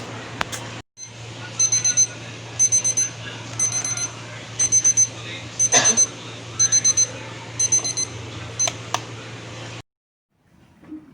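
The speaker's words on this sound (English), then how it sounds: "I think it's an alarm." An alarm clock rings in a home with repeated bursts of bright electronic beeping in a steady rhythm over a constant low hum, loud and close, then stops abruptly.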